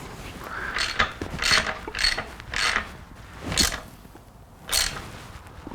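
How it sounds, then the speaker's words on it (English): Ratchet lightly tightening 12mm bolts holding a plastic gas tank on a Honda CRF50 dirt bike, heard as several short bursts of rapid clicking separated by brief pauses, close and moderately loud. "I'm just going to lightly tighten them on because this gas tank's made of plastic."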